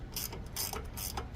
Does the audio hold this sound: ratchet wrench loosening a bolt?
yes